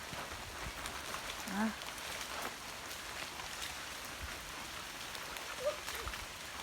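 Steady rain falls on foliage and ground while mushrooms are picked in wet woods, a soft even patter with a few brief sounds of movement nearby.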